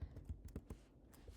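Light typing on a laptop keyboard, a quick run of soft key clicks at close range in a quiet room, about eight taps in just over a second.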